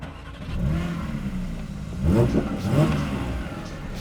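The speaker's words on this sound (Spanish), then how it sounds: "Vamos a escuchar el motor." A manual, non-turbo Porsche 911 GT3 engine starts and revs, rising in a couple of throaty bursts before settling into a steady idle, close and loud.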